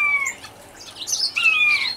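Small birds in an outdoor aviary, among them a female Bicheno finch and a yellow lutino, give close, bright chirps and thin whistled calls, overlapping in quick bursts with light squawky notes.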